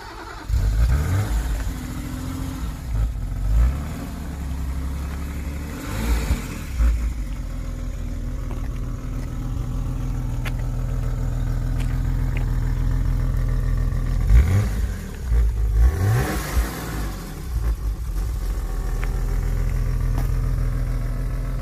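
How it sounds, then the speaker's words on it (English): A BMW M5 Competition's straight-six engine idles steadily, then is revved several times in short bursts that rise and fall, heard from close by with no talking. "let's hear the straight 6"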